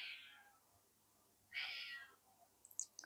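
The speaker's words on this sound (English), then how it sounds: "he's meowing outside." A cat meowing outside gives two quiet, drawn-out meows about a second and a half apart, faint and somewhat distant in an otherwise hushed setting.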